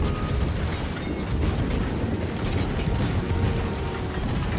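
Naval guns from a Minotaur cruiser in World of Warships fire steadily at the Donskoy, a dense run of rapid, clattering blasts and mechanical thuds layered over a constant roaring background.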